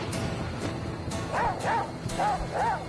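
A dog in the survival video game The Flame in the Flood barks in quick, high yips, four sharp calls in a steady rhythm near the end over a low background hiss.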